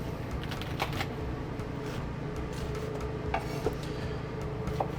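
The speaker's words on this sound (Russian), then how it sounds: "Я нарезаю айсберг." A knife chopping a head of iceberg lettuce into rough cubes on a board, giving a quick series of crisp, crunchy cuts and taps, close and fairly steady, with no talking.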